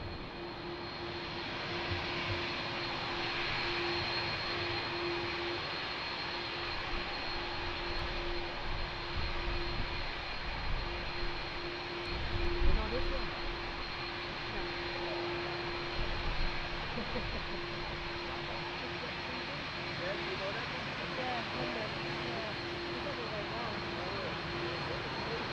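Airliner engines at Lisbon Airport as an aircraft takes off, a steady broad roar that swells briefly near the middle and is joined by a faint tonal hum, with radio chatter in the background.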